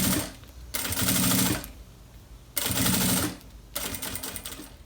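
A sewing machine stitches a plastic pouch's frame, lining and zipper together in three sustained bursts of rapid needle chatter, separated by short quiet pauses.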